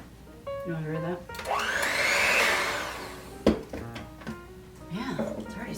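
An electric mixer beats carrot cake batter with eggs added one at a time, a steady whirring drone that swells for a couple of seconds, with people talking before and after it.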